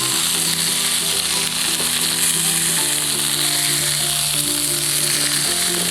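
Chicken fries in hot oil in a nonstick wok outdoors, a loud, constant crackling sizzle that fills the whole moment without any speech.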